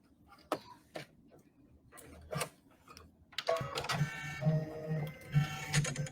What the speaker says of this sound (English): so I'm just lining these up and sewing across the top.